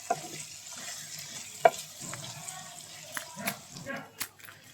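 Cumin, chopped onion and green chili sizzle on a traditional clay stove, with a few stirring scrapes and clinks over a quiet, steady frying hiss, nearby.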